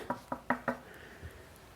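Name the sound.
knocking on wood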